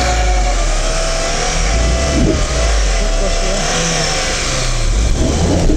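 A Renault Duster or Lada Niva 4x4 drives up off-road, its engine a loud, steady mid-pitched drone with slight revving swells, close and continuous while people talk over it.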